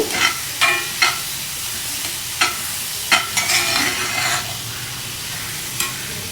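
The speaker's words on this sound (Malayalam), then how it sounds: "കുറച്ച് മല്ലിയിലയും പുതിനയിലേക്കൊന്ന് അരിഞ്ഞു വെച്ചതാണ് കേട്ടോ അതും കൂടെ ഇതിലേക്ക് ചേർത്ത് കൊടുക്കാം നന്നായിട്ടൊന്ന് വഴറ്റിയെടുക്കുന്നുണ്ട്" Chopped coriander and mint leaves stirred into a sizzling prawn biryani masala, with a spoon scraping the pan in repeated sharp strokes over a constant close fry hiss.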